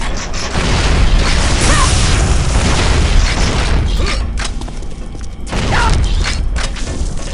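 Flak cannon blasts in the video game Unreal Tournament 2003, a dense run of loud booming bursts and mechanical clatter, with a brief lull midway before more explosions.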